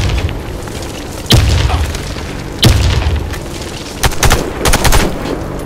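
Loud, heavy booms ring out in the shooter game Warface, spaced over a few seconds and followed by a quick cluster of sharp blasts, over a constant low battlefield rumble.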